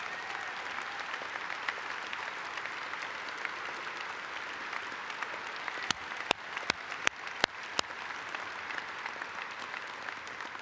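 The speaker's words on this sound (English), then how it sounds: "give yourselves a round of applause" A convention audience of union members applauds steadily throughout, a dense, even wash of clapping from a large crowd with a few sharper, closer claps standing out near the end.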